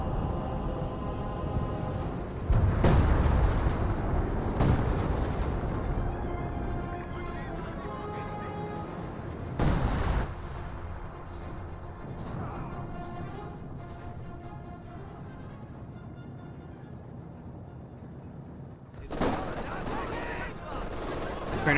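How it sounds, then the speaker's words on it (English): A 28-centimeter rocket barrage crashes down in Company of Heroes 2, with several loud bursts of impacts and blasts spread across the battle noise while a caster talks over it. "No, it's the rocket barrage, the 28-centimeter rocket barrage."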